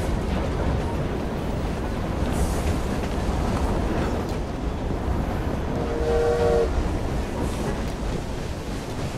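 A train in Assassin's Creed Syndicate rumbles loudly and continuously, with a brief steady horn-like tone partway through.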